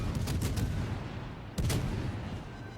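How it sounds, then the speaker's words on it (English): Naval gunfire from the battleship Nagato in World of Warships Legends: two heavy volleys of booming shots, each a cluster of deep blasts with rumbling tails, the second louder and following after a short pause, with no speech over them. "Another volley from the Nagato, grit your teeth."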